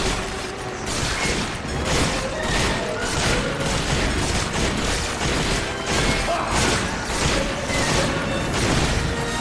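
Gunfire in the video game Resident Evil 5 rings out as repeated, closely spaced loud shots mixed with crashes and impacts, a dense barrage running without pause and with no talk.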